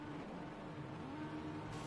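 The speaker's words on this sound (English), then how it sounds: "We hear the revs going." Race car engines rev together at the start of a Gran Turismo 5 race on the Nürburgring, a steady, droning, layered engine roar held at constant level throughout.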